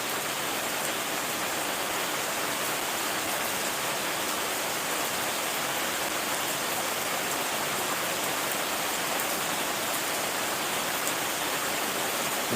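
Steady rain falls outdoors as a dense, even hiss with no breaks and no voices.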